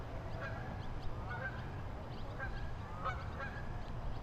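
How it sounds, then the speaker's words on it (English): Geese honk repeatedly while flying over a flooded pond, their calls faint and distant over a low rushing background, coming in scattered bursts. "Oh, the geese are flying."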